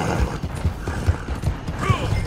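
A horse arrives when called in Red Dead Redemption 2, its hooves clip-clopping in a quick, uneven rhythm close by, with a brief whinny-like squeal near the end.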